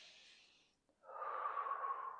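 A Pilates breathing demonstration: a soft, airy inhale fades to a brief pause before a longer, louder, forceful exhale through the mouth, close and alone.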